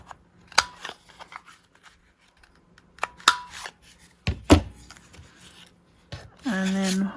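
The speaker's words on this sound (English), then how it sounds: "trim the corners." Scissors trim the corners of a paper label in a few separate snips, each a crisp, close cut, with paper rustling between them. A louder, sustained rasping sound closes the stretch, and a voice is heard faintly.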